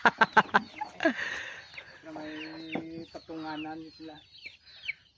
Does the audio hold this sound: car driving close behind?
no